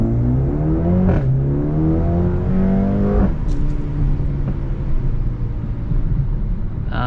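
A 2020 Mercedes-AMG CLA 35 coupe engine in Sport Plus mode revs up loudly, its pitch climbing through gears with brief drops at each shift, close and strong.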